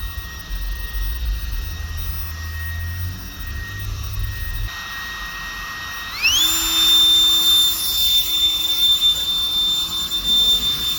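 A handheld turbo fan whines at its first speed with a steady high pitch, then spools up halfway through into a louder, higher jet-like roar that holds to the end.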